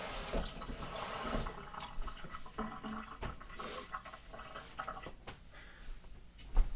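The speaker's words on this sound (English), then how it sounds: "you're gonna wash my hands quick because I got yogurt all over my hands" Water runs from a tap as yogurt is rinsed off hands, a steady close splashing stream with irregular spatters and small knocks over about seven seconds.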